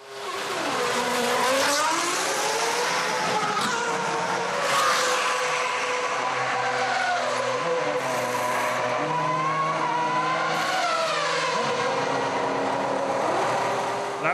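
Formula 1 cars racing at the 2006 Australian Grand Prix in Melbourne, loud high-revving engines screaming past with rising and falling pitch, gear shifts and overlapping cars heard throughout.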